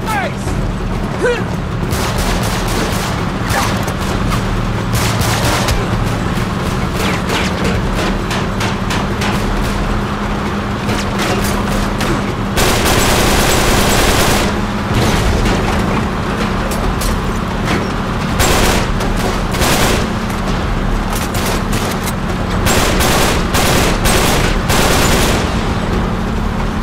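Sustained gunfire in a firefight in the video game Uncharted 3: Drake's Deception, caravan chapter, with dense bursts and sharp shots running throughout, loudest midway and toward the end, under occasional voices.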